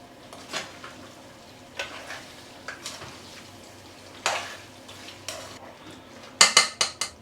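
Raw meat being mixed with ketchup and salt for Dhaka-style kacchi biryani, soft intermittent squelches and scrapes at close range, ending in a few sharper clinks of utensil against bowl.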